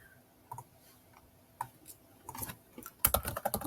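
Keys tapped on a computer keyboard while filling in a Notion page, a few isolated clicks and then a quicker burst of typing near the end, close and fairly quiet.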